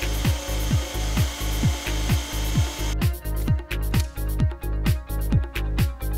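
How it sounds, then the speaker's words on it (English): A 4mm hole drilled into reinforcing steel exposed in concrete: a loud, close, steady rhythmic grinding with repeated pulses about every half second, the tone turning brighter and harsher partway through. "Then drill a 4mm hole into the steel."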